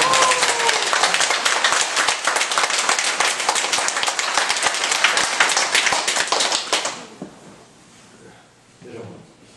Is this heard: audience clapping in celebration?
yes